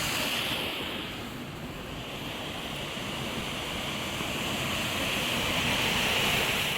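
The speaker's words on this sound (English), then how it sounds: "Cascades leading into Stockley Bridge, dedicated to my wife Denise, who does love the little waterfalls" Small waterfalls cascading down a mountain stream toward Stockley Bridge near Seathwaite Farm in the Lake District fells, a steady, fairly close rushing wash of water that swells slightly toward the end, with no voices.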